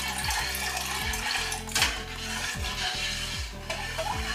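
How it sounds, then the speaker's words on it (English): A spoon stirs diluted lipase into cow's milk in a pot while making feta-style cheese, with repeated soft scraping swirls against the pot and faint sloshing of liquid throughout. "I'm just going to stir that in."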